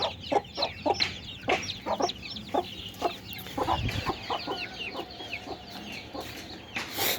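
Hens clucking in short, repeated bursts close by, with a busy chorus of chicks peeping throughout and no talking.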